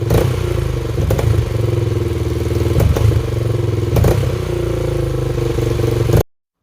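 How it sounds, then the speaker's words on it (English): A Honda XR400 dirt bike engine, apparently running rich, revs hard and keeps bogging toward a stall, a loud, close, uneven roar with several sharp thuds and clattery dips over about six seconds. "Let me show you what happens when I give the bike a lot of gas."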